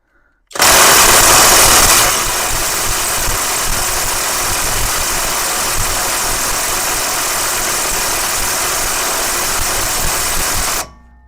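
ELTOS AG 800BL cordless impact wrench, set to maximum in reverse, tries to undo a fastener. A loud continuous motor whir and hammering runs for about ten seconds, sharpest at the start, then holds steady until it stops abruptly.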